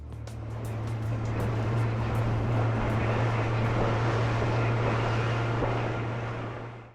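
A boat motor drones steadily and loudly while cruising out to a fishing spot on the open sea, a constant low engine tone with wind and water wash over it throughout.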